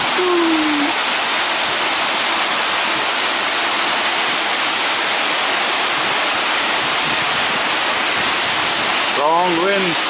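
Strong wind and heavy rain from a severe thunderstorm in Nakhon Phanom, Thailand roar as a loud, dense, continuous wash of noise, with a brief voice heard faintly near the end.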